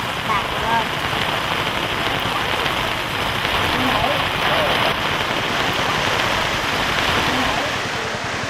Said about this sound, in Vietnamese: Trời tạnh rồi lại đổ mưa